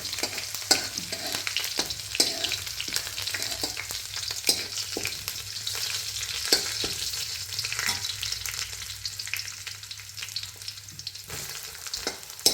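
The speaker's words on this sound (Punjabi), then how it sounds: "ਹੁਣ ਵਿੱਚ ਪਾ ਦਿੱਤਾ ਜੀ ਅਦਰਕ ਕੱਟਿਆ ਹੋਇਆ" Ginger garlic paste and chopped ginger fry in a pan with steady, close sizzling and frequent stirring scrapes, a continuous crackling hiss running throughout without any talk.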